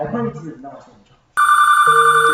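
A telephone bell rings loudly and steadily right after a voice falls silent, a sustained electronic trill that continues to the end.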